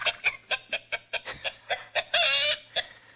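A hen clucks from the sound chip of a Higgly Hen children's board book, a steady run of bright, rhythmic clucks ending in a longer squawk, close and clear with a faint electronic hum beneath.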